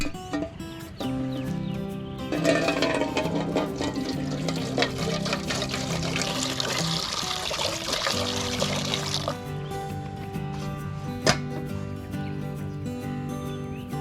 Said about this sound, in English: I put the pot on the stones and pour the filtered water into it.